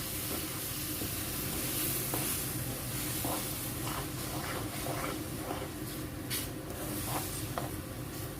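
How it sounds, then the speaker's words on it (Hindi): Milk hissing and sizzling as it hits hot semolina halwa in a pan, a continuous loud steamy hiss with light scraping taps from stirring throughout. "ये मिल्क ऐड करके इसको मिलाएं।"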